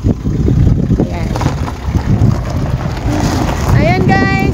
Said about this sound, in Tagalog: sobrang hangin dito sa labas